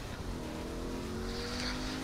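A car in Saints Row: The Third drives and drifts, its engine droning steadily with a long tire squeal running under it for a couple of seconds.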